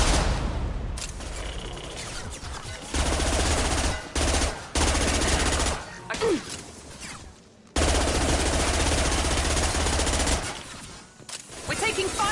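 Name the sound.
gunfire in Mass Effect 2 video game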